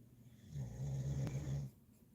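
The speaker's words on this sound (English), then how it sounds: "And a snoring dog." A dog snores nearby indoors, one long, low, droning rasp of a snore rising out of quiet background and fading after about a second.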